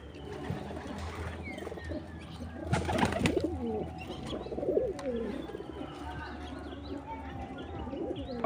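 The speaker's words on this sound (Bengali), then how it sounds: "পায়রা এখন খাচ্ছে।" Pigeons feed in a group and coo repeatedly in low, throaty bursts, mixed with light chirps and rustling at close range, while faint voices sit in the background.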